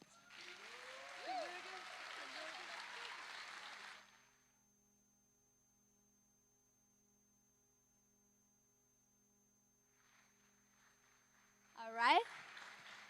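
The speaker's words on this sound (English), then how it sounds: "Please give a grand applause." An audience at an award ceremony applauds, a dense burst of clapping for about four seconds. A low hum continues, faint movement follows, and a brief vocal sound rises near the end.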